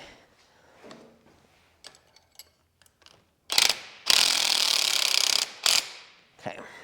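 A ratchet wrench works a motor mount bolt on a 1962 Jeep Willys, with scattered small clicks and knocks, then loud close ratcheting bursts, including one long sustained rasp, followed by brief further ratchet strokes.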